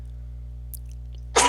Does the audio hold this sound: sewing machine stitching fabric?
no